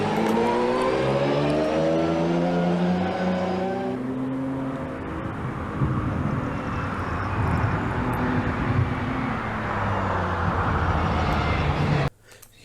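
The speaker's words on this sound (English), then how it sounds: "Hear that very deep note that the engine's producing." A car engine idles and pulls at low revs with a deep, droning note that holds steady and close for most of the stretch, then cuts off abruptly near the end.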